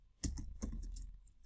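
Keys tapped on a laptop keyboard, a few distinct clicks spaced out unevenly over a quiet background, close and fairly soft.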